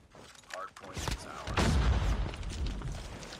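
Gunfire in the mobile shooter Call of Duty Mobile, a burst of booming shots and rattling mechanisms with a heavy low thump partway through, mixed under a player's voice.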